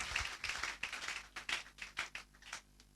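A church congregation claps in acclaim of Jesus, a quick, uneven run of close hand claps with short pauses and no talking.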